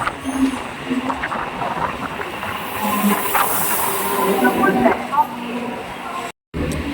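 Local train on the Sealdah–Krishnanagar line running into Sodepur station, a steady rumbling roll with hiss and clatter throughout, cut by a brief dropout near the end, with a voice speaking over it.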